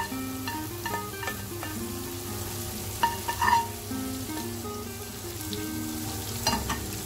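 Fried ingredients tipped into thick black carrot halwa and stirred in a pan, a steady low sizzle with scraping spoon strokes and a few louder clinks midway, close and without talk.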